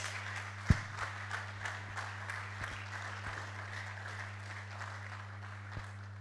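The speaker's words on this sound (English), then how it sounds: "Let's give her a round of applause." Audience applause for the chairperson at a distinguished alumni lecture, a steady moderate patter of clapping with a few sharp louder claps standing out, over a constant low hum in the hall.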